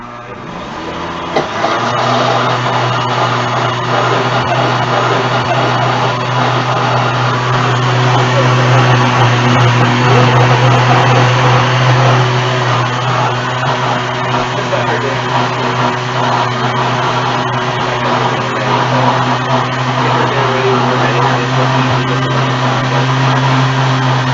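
A blender blending hot soup runs steadily at high speed with a droning whir, starting abruptly after a brief moment and continuing loud and unbroken.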